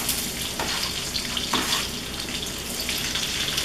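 Bacon and apples frying together in a pan for breakfast, a steady broadband sizzle throughout with a couple of brief louder scrapes or stirs.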